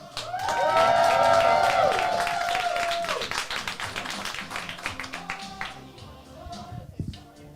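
Club audience at a live comedy show clapping and cheering for a comedian, a dense loud burst that thins out quickly into scattered claps and voices over a few seconds.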